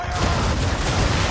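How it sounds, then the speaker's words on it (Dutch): Ship cannons fire in the naval combat of Assassin's Creed III, a dense, rumbling barrage of booms running throughout at a loud, near level. "Hou linkerbuisknop ingedrukt en laat los om de kanonnen af te vuren."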